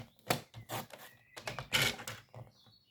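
Paper being cut for a small ATC card, a series of quiet crisp snips and soft clacks in uneven rhythm, close and faint.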